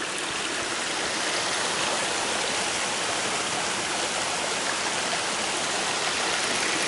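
Water flows over a small stream crossing on a mountain trail, a steady broadband rush and babble heard up close with no voices.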